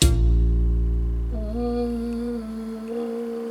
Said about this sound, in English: So normally when you pluck the string, it's going to sound like this.